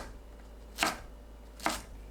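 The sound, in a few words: knife chopping enoki mushrooms on a cutting board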